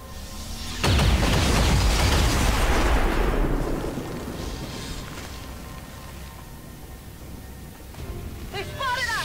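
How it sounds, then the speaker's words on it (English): A big blast goes off in the XCOM 2 strategy game: a sudden loud boom that rumbles and fades slowly over several seconds, with faint mechanical noises and a brief chirp near the end. "nothing says hello quite like a kaboom"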